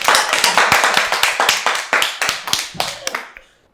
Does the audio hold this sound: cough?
no